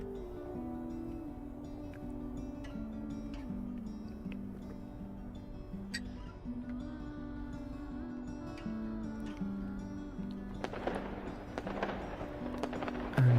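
Fireworks from the intro scene of a homemade video game crackle and pop over a steady synthesized musical drone, growing busier toward the end.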